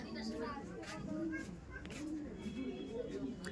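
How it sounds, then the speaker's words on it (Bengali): Pet pigeons coo in soft repeated rolling calls at close range, heard under a voice and other chatter. "এই দেখুন পায়রাটা দেখুন"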